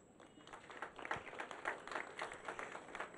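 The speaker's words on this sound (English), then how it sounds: "Ladies and gentlemen, the clap is not good enough." Audience applause at a sod-cutting ceremony, a faint, thin patter of scattered claps from a small crowd, uneven and fairly distant.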